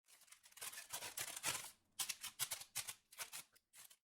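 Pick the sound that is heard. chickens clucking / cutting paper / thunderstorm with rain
cutting paper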